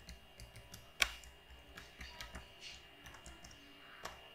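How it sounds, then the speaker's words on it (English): Faint keystrokes on a computer keyboard while code is typed into Python IDLE on Windows 10, an irregular patter of light clicks with one sharper tap early on. "So I will type here print"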